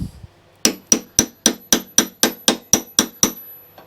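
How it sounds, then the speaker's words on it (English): A small tinking hammer taps a metal clip on a lawnmower eleven times in a quick, even rhythm, each strike crisp and ringing briefly, close up with nothing else audible. "There's my little tinking hammer gone."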